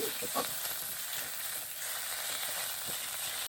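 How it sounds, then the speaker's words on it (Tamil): Coriander and ivy gourd leaves sautéing in a pan for a sambal, a continuous gentle sizzle and hiss with faint stirring, steady and close with no talking. "ஒரு 2 நிமிஷம் வதங்கினா சரி."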